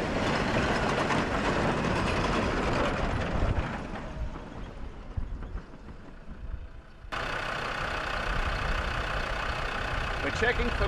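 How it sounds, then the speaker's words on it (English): A vehicle engine running after a cooling system repair on an outback road trip, a steady rumbling mechanical drone that drops and thins midway, then resumes at full level with a constant noisy texture. "Alright, fingers crossed, we'll run the engine"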